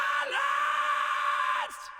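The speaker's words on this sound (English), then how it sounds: "So, starting to mix some screams," A drawn-out, gritty vocal scream from a metal song recording is heard being mixed, one loud sustained yell holding steady before trailing off.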